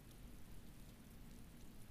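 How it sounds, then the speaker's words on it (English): Heavy rain falling steadily, a dense continuous wash of drops with a low rumbling undertone, even and unbroken throughout. "The rain is getting heavier."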